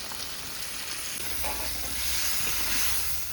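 Tamarind water hits a hot pan and sizzles steadily, a continuous hiss of frying that swells slightly toward the end.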